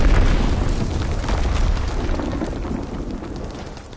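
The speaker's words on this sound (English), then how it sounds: "Enemy bomb incoming, get to cover!" A heavy bomb blast in a WW2 video game booms loudly at the start, then a long rumbling roar of debris and fire rolls on and slowly fades.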